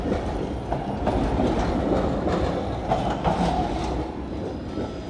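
A Bombardier tram rolls past close by, a loud steady rumble of wheels on rail with rhythmic clicking joints and faint squeals, no voices.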